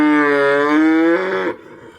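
A dairy cow lets out one long, loud, close moo that holds steady before cutting off, leaving quiet background afterward.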